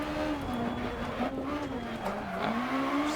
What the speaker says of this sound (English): Scraping the ground a lot right there.